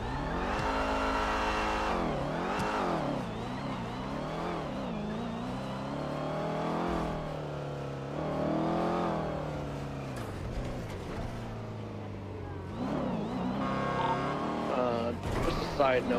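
Video-game car engine revving and driving in sustained waves, rising and falling in pitch, loud and close, with sirens and chatter mixed in and voices talking over parts of it.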